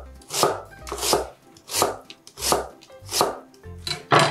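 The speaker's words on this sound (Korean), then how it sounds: "양파는 먹기 좋은 길이로 채를 썰어 주세요." A kitchen knife slices an onion into strips on a cutting board, six quick bursts of rapid chopping strokes with short pauses between them, crisp and close with no talking.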